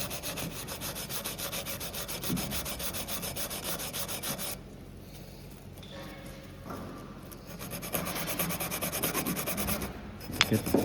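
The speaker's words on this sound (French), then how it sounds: "On nettoie vraiment tous les supports où la graisse va venir peser." Steady close rubbing and scraping cleans the rear brake caliper supports on a Mercedes A-Class (W177), in two long sustained stretches separated by a short quieter pause.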